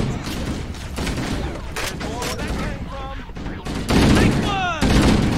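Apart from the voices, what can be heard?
assault rifle firing in Halo: Combat Evolved video game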